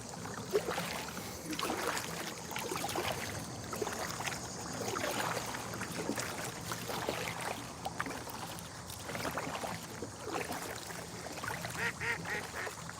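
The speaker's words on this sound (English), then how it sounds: "These ducks are unbelievable." Ducks quacking around a paddled boat on the water, close and persistent, with splashing and paddle noise mixed in.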